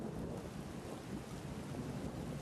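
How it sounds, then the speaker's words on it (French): Heavy rain pours in a dense, steady hiss with a low rumbling wash underneath, constant and unbroken throughout. "Il pleut des cordes dehors."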